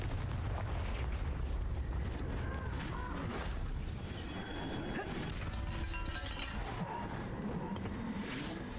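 The Confringo fire spell going off in the video game Hogwarts Legacy, with booming, rumbling blasts and crackling bursts layered over continuous battle noise and game effects.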